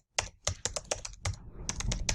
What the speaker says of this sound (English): I'm just going to type in all caps